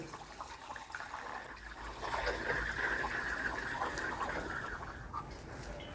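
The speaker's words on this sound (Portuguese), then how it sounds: "agora eu vou adicionar o produto aqui na garrafa" Cleaning liquid for a cold-room evaporator line pours through a funnel into a bottle, a steady close trickle and gurgle that swells after the first couple of seconds and runs on unbroken with no talk.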